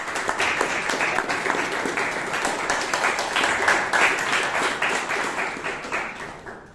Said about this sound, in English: A big round of applause to Hitesh, please.